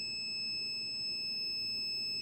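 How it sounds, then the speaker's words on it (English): A Crock-Pot slow cooker beeps when done, a steady high electronic tone held throughout at low volume in a quiet room, with no talking. "Oh, and it also beeps when it's done"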